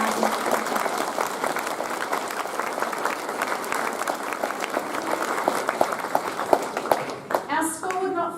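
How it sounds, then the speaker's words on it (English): Audience applause at a Year 9 school prize giving at Cashmere High School, steady dense clapping from a large crowd filling the hall, continuing evenly and thinning near the end. "Let's give them a big round of applause for their hard work."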